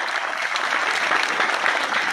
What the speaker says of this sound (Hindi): जोरदार तालियां बजा दें इस बात के लिए